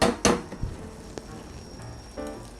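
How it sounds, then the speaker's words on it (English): An egg drops into a pot of instant ramen on a stove over low heat, giving a sharp splash and hiss followed by a soft, steady sizzle and a couple of light clinks of utensil against pot. "turn your stove on low heat. And then we're gonna add an egg."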